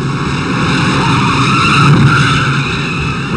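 Race cars roar on the 1954 NASCAR Modified Daytona Beach course, a loud continuous engine and tire noise swelling slightly midway, with no voices over it.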